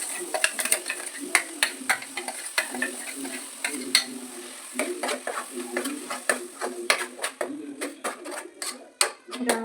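Egg gravy being stirred in a pan with boiled masala, a spoon scraping and clicking against the metal in quick irregular strokes over a steady sizzle, close and fairly loud.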